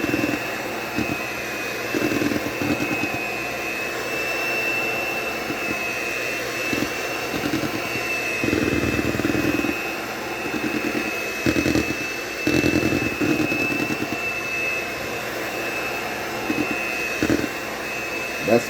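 A stand mixer running on its lowest setting, mixing cheesecake batter, a steady whirring motor hum with periodic bursts from the beater, and a voice talking occasionally.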